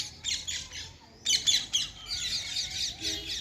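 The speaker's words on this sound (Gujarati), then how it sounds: "અત્યારે પોપટ આવ્યા છે ઘણા બધા" A large flock of parrots squawks loudly and shrilly nearby during the monsoon, with bursts of harsh calls overlapping in quick irregular clusters and a brief lull between outbursts.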